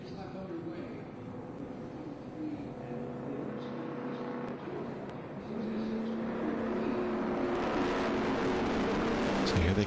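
Race cars, including a Corvette, rolling toward the start of an IGT enduro, a steady broad engine roar that swells louder in the second half, with talk over it.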